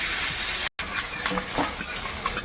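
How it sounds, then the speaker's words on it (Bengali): Small garlic cloves and black cumin (kalo jeere) sizzle in hot oil with a bright, constant hiss that drops out for an instant, then continues with light crackles and occasional scrapes. "তেলের মধ্যে একটু কালো জিরে সামান্য মা রসুন ছাড়িয়ে একটু ছোটো রসুন কয়েক কয়ের মধ্যে দিয়ে দিলাম"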